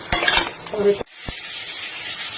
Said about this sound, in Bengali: এবার কিন্তু চিকেনটাকে ভালো করে কষবেন, যাতে মশলাগুলো চিকেনের মধ্যে ঢুকে যায়